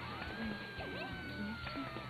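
Cats meowing in the fighting game Nitro+ Blasterz, several short high meows popping up over busy game music and effects, fairly faint and spread across the moment.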